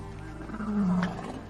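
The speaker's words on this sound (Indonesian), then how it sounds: "Namun singa itu tetap berusaha agar bisa mendapatkan Naed." An angry male lion in the film Beast (2022) lets out a single deep, close, loud roaring growl that swells and fades over about a second.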